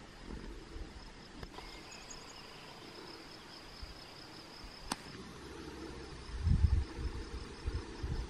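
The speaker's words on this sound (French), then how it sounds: "notre ami le grillon" A cricket chirps outdoors near the headwaters of the Jordanne in the Cantal mountains, a thin high buzzing over faint ambient noise, with a couple of sharp clicks and a low rumble near the end.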